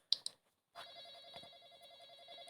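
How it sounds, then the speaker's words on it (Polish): A telephone rings in the Roblox horror game Intruder: two short sharp chirps, a brief silence, then a sustained steady electronic ring tone, fairly faint. "Telefon dzwoni."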